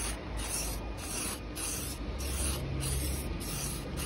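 Copper spray paint hissing from an aerosol can onto a Honda engine valve cover, a steady close spray pulsing in short regular bursts over several seconds, with no talking.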